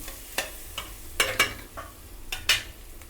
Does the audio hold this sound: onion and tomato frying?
yes